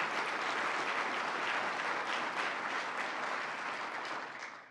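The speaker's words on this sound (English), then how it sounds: "Let's give a round of applause to Mayor of Utica, Robert Palmieri, and Mayor of Rome," Audience applause for two city mayors at a state funding event for a polytechnic institute, a steady dense clapping that fades at the end, no voices over it.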